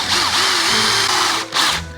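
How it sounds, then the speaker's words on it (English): A power drill with a hole saw and pilot drill whirs steadily, its pitch wavering as the bit bites, with a brief dip and surge near the end. "your pilot drill will drill a hole"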